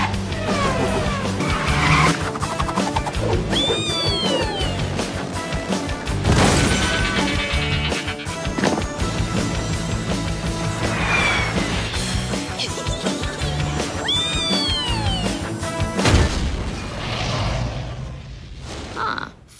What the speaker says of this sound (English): they opt to ride the bumper cars around the pretty empty city